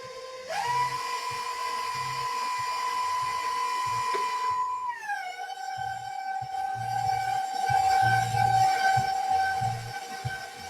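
An electric mixer whirs steadily through chocolate chip cookie dough, a loud continuous motor whine that drops slightly in pitch midway as the load changes, running alone without speech.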